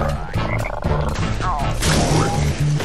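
Frogs croak in the video game Juju, a run of low, pulsing croaks repeating in quick rhythm, mixed with short crashing and thudding game effects.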